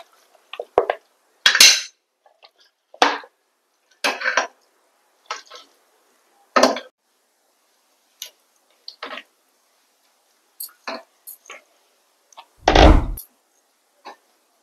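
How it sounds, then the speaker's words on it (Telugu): Mutton pieces being dropped into a pressure cooker, a series of sharp clanks and clatters of metal and meat with quiet gaps between them, close and fairly loud. "మటన్ కుక్కర్లో వేసుకుందామండి."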